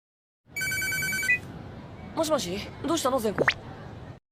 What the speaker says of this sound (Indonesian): mendadak Zenko nelpon